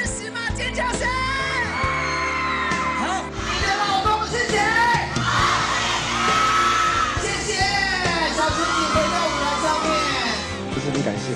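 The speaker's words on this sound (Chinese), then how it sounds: "尖叫声！" A large crowd of fans screams and shrieks at a pop concert, loud and sustained for the whole stretch, with overlapping high wavering yells and no one speaking.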